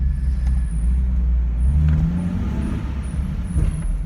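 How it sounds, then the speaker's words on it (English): Car brakes squeak in thin, high-pitched squeals that come and go over a low rumble of engine and road noise, with no one talking. "those brakes are squeaking"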